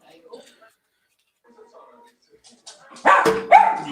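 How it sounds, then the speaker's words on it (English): A dog barks a few times close by near the end, loud short yelps following quieter indoor shuffling and faint voices in a home. "Oh, we could have a barking dog."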